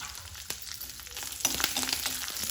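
Cloves, cardamom, garlic, ginger and green chilli dry-roast in a pan on an Indian stove, giving a soft, steady crackle with light scraping stirs, faint and close, growing a little busier toward the end.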